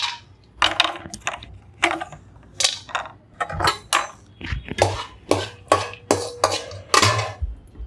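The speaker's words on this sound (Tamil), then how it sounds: "இப்போ அதே வாணலியில் கொஞ்சமாக நெய் ஊற்றி இந்த முந்திரி பருப்பை வறுத்துக்கணும்" Cashew nuts are roasted in a little ghee in a pan, with a series of sharp metallic clinks and scrapes of a spoon against the pan in an uneven rhythm, close and fairly loud, with no talking.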